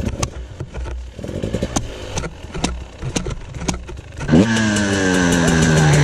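A KTM dirt bike on a snowy winter ride is handled with scattered clattering knocks, then its engine fires and revs up loudly and close, holding a strong steady roar to the end.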